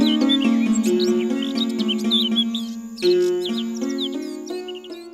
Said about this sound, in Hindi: चिड़िया अपने घोंसले में बहुत खुश थी।